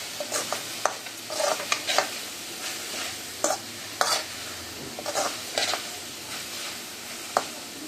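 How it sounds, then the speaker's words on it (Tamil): Vegetables with a little turmeric sautéed in a pan, a soft continuous sizzle broken by repeated scraping knocks of a spoon against the metal, close and without talk. "நல்லா பச்சை வாடை போகிற வரைக்கும் நல்லா வதக்கி எடுத்துக்கலாம்"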